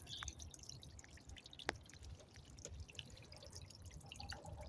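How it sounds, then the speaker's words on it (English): Water comes down outdoors in the Russian hills, a faint, steady patter of drips and trickling with a few sharper drops standing out. "Well, yeah, water's coming down."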